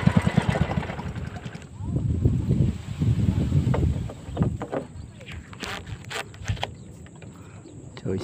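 Gusty wind buffeting a microphone on a lakeside or river outing before airgun fishing, a loud roaring rush that eases into steadier breeze, with distant voices underneath.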